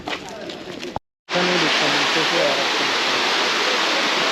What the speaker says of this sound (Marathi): आपण आता एलिफंटा फॉल्सला आलो आहे आणि तो पहिला वॉटरफॉल आहे